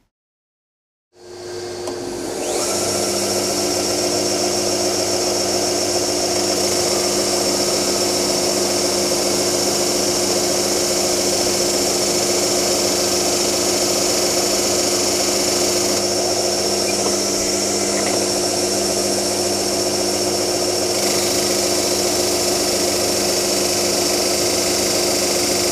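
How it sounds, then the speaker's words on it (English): A power sander starts up and runs with a steady, loud whine and buzz, continuous and close, sanding wooden box parts to form a bevel, without any talking. "So what we're going to do is just sand these to form the bevel."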